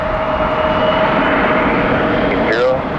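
An airplane takes off at Detroit Metro Airport, a steady broad engine roar holding loud throughout, with an air traffic radio voice talking over it.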